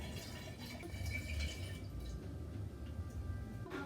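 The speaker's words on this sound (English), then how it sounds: "I'm going to take what I have in the beaker and pour it in here." Cinnamon apple wine pours from a beaker into a fermenting vessel during secondary fermentation, a faint trickling fill with soft drips that fades after a few seconds.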